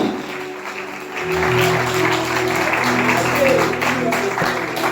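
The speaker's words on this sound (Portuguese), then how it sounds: "Vamos aplaudir o Senhor Jesus nessa manhã." Church congregation applauding during a Sunday morning service, a dense steady wash of clapping that swells after the first second, with voices and low organ or keyboard tones sustained underneath.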